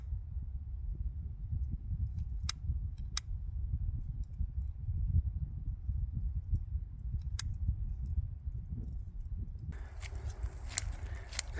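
Scissors snip through a shade net over a cutting greenhouse, a few sharp separate clicks over a low steady rumble, faint and close, with a rustling at the end.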